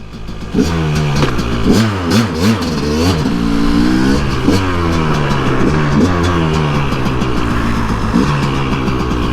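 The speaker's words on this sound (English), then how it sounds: "So let's go take it out, take it up the street, take it for a spin." A KTM two-stroke dirt bike rides along a street, its engine revving hard and steady with rising and falling pitch through repeated throttle blips, loud and close throughout.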